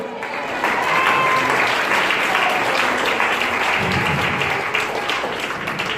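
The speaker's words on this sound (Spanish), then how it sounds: "Dale un aplauso al Señor" A church congregation breaks into sustained applause during a Sunday morning service, many hands clapping in a dense, loud wash that holds steady for several seconds, with a faint voice or two mixed in.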